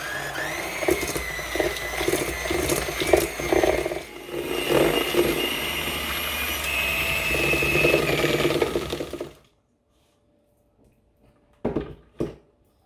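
An electric mixer whirs for about nine seconds, beating butter and sugar for a strawberry bundt cake, its motor droning with rattling changes in pitch, then stops abruptly, followed by a couple of brief clatters.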